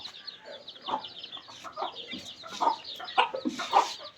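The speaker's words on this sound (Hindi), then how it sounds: "मुर्गियाँ, छोटे छोटे बच्चे देखें।" Chickens with small chicks cluck close by, with high, chirpy peeps mixed in. The calls come in irregular bursts that grow louder toward the end.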